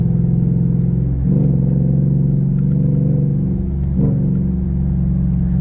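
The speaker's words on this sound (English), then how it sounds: "you can hear the noise. I mean, that's what makes this thing so much fun. That exhaust." A Ford Coyote V8 truck driving in fifth gear gives a loud, continuous exhaust drone with a steady low rumble. The throttle surges briefly twice. No one speaks.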